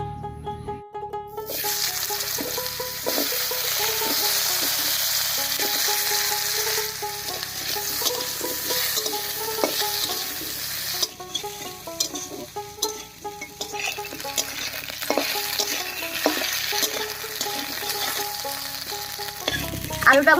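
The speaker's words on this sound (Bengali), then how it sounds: "এবার মাছ ভাজার এই তেলের মধ্যেই কেটে রাখা আলুটা দেব।" Cut potatoes fry in leftover fish-frying oil in a Bengali home kitchen, a loud continuous sizzle with crackle and occasional stirring and clinking of a utensil against the pan, close and steady throughout.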